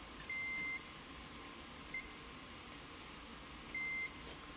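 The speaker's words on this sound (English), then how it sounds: "we can also vary the duration of beeps" Beeps from a Sun keyboard connected through a usb3sun adapter under Solaris: three clear, high electronic tones, long, then short, then long again, each separated by quiet gaps.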